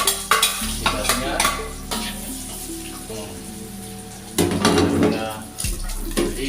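Garlic and shallots hitting hot oil in a frying pan, with loud clattering stirs and scrapes, bursts of sizzle and splashing, close by with occasional background voices.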